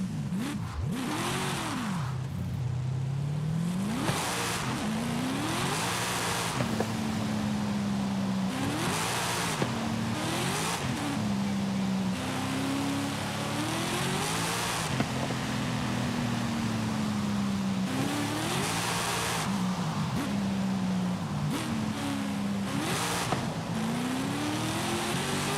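Nearly 1,000-horsepower car in Forza Horizon 5, its engine revving and swooping up and down through repeated gear changes, with bursts of tyre and exhaust noise, loud and continuous.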